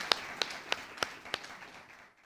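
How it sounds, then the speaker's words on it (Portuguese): Sharp hand claps at a Bible study on Colossians ring out as five crisp, evenly spaced beats at moderate distance, then give way to a quiet room. "Palmas a ele."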